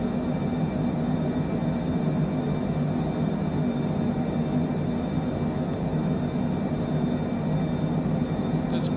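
A Cessna Citation Longitude business jet in cruise flight in Microsoft Flight Simulator 2024 gives a steady, even cabin drone with a constant high whine running throughout, unbroken and without talk.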